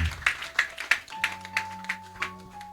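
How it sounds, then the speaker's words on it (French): A congregation at a church service claps in a slow, steady rhythm of about ten distinct beats, fairly quiet, with a sustained organ or keyboard tone underneath. "Can you clap for that man of God"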